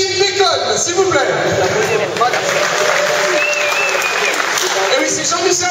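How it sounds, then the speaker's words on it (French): Applause and crowd noise in the arena at a fight event, clapping mixed with babble and a loud voice over a sound system, continuous and fairly close throughout. "Je demande d'applaudir Monsieur Kevin Bacon, s'il vous plaît."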